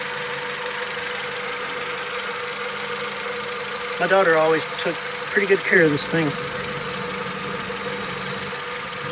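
A blue 1995 Honda Civic project car idles with a steady, even low hum and a faint knock, while someone speaks briefly close by over it.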